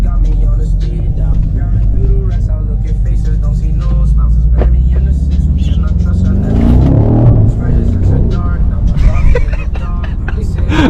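An Audi S4 accelerates hard, its engine roaring loud and close from the cabin and building to a surging peak midway while racing an M550i.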